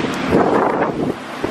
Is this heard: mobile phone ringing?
no